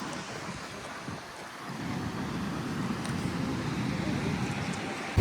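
Sea waves wash steadily onto a beach in Goa, a continuous roar of surf mixed with wind buffeting the microphone, with no clear individual breakers standing out.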